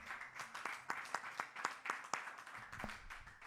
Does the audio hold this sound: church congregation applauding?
yes